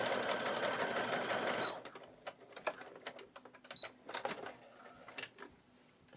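A sewing machine stitching a swim strap runs in a loud continuous whir for a moment, then stops, followed by scattered clicks and handling taps.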